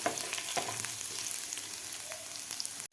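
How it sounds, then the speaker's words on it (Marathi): Finely chopped garlic fries in oil toward golden, giving a steady, even crackling sizzle at moderate loudness with faint pops, ending abruptly; no one talks. "आता ह्याला व्यवस्थित आपल्याला थोडंसं गोल्डन कलर होईपर्यंत आपल्याला फ्राय करायचं आहे लसणाला"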